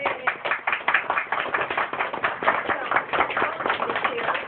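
Audience applause at an author's library reading, a lively burst of clapping from a small crowd, close and continuous for several seconds.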